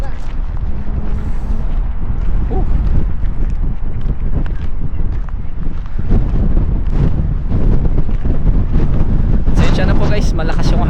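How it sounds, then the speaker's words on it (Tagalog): Strong wind buffets the microphone in heavy, rumbling gusts throughout, loud and close, with a voice partly audible under the roar. "Grabe po ang hangin dito sa taas."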